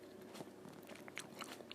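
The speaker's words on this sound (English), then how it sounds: "I'm just munching some grapes now." Grapes are munched up close in quiet, with soft repeated crunches and wet chewing bites in an irregular rhythm.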